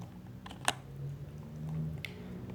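Computer keyboard typing while working in an Excel spreadsheet, a few scattered key clicks with one sharp louder keystroke, close up over a low steady background hum.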